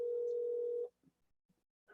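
A telephone dial tone heard while placing a call: a steady, clear tone that holds for just under a second and then cuts off, followed by faint scattered clicks and murmurs.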